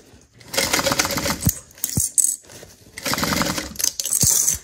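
Sewing machine stitching fabric for a Shamballa-style bag, running in two steady rapid bursts of mechanical chatter with brief pauses and small clicks between them, close and fairly loud.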